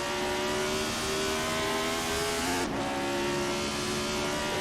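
A 1975 Formula One race car in Assetto Corsa roars at full throttle, its engine note steady and loud and climbing in pitch before a sharp gear-change dip and renewed acceleration.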